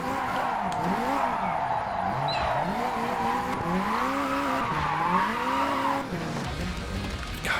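A racing-game car drifts with its engine revving in rising and falling sweeps while tires squeal continuously beneath, loud and sustained, briefly dipping near the end.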